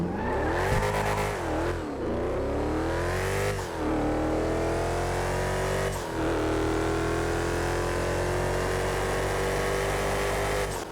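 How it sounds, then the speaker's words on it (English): A loud car engine in GTA Online, the Casco, revs hard and climbs in pitch, briefly drops between shifts, then holds a sustained high roar with no talking. "The Casco is very loud."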